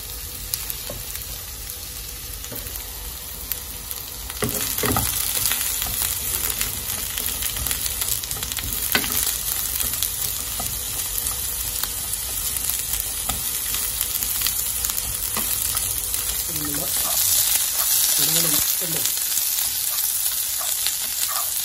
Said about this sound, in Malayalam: കുറച്ച് വെളിച്ചെണ്ണ കൂടി നമുക്ക് ഇതിനകത്തേക്ക് ഒഴിച്ചു കൊടുക്കാം. എന്നിട്ട് ജസ്റ്റ് ഒന്ന് സോട്ട് ചെയ്തെടുക്കണം.